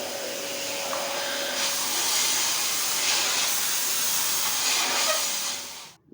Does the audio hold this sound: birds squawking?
no